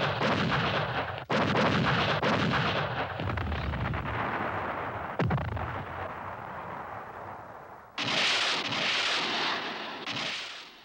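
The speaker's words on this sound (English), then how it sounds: "The opening artillery barrage is enough to end resistance." Artillery barrage during the Vietnam War advance on Da Nang, a series of heavy booming blasts with long rumbling decays, loud and continuous, sharper bursts recurring near the end.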